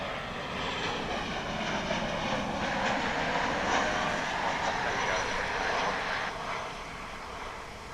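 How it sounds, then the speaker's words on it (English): An American Airlines Boeing 737-800 arrives at DFW International Airport. Its jet engines give a steady, fairly loud broadband roar that swells in the middle and then eases off, and a voice talks faintly underneath. "Now arriving from John Wayne Airport in Santa Ana, California, American Flight 1631,"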